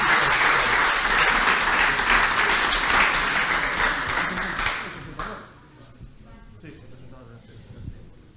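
A demo-day audience applauds loudly and densely for about five seconds, the clapping thinning and fading, with faint voices and stray claps afterward.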